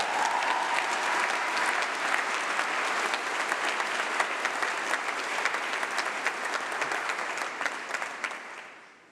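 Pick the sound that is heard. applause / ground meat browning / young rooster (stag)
applause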